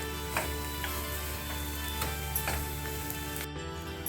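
Jaggery and grated coconut stirred together in a pan over a low flame, with soft scraping strokes and faint ticking against a steady sizzling hum.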